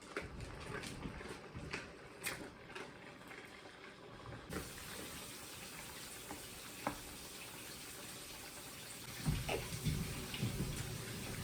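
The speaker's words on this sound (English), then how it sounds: "I'm going to add just a little bit of water because it is pretty thick" Water poured into a thick pot of chili on the stove gives a steady rushing splash that rises at the end, with faint clinks and sizzling underneath.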